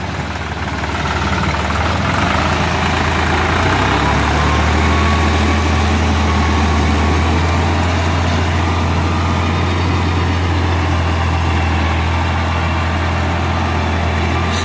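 A New Holland 5500 tractor engine idles steadily with a low, continuous rumble that stays close and unchanging throughout.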